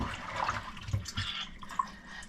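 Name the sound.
water draining from squeezed roach fish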